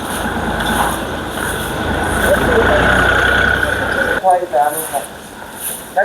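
A vehicle engine rumbles and idles on a town street during a mass cleanliness drive, a broad steady drone that cuts off abruptly, after which someone talks over quieter surroundings.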